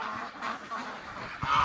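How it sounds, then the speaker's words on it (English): A flock of ducks, drakes among them mounting females, gives a run of nasal honking quacks close by, overlapping calls that swell louder at the end. "the ducks are mating"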